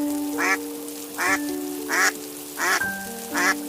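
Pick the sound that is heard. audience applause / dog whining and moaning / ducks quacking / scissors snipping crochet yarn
ducks quacking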